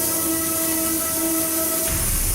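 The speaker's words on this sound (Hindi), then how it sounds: "प्रेशर कुकर की सीटी थी" A pressure cooker whistle shrieks in a home kitchen, holding one steady, loud tone for nearly two seconds before cutting off into a brief low rumble, with no voices.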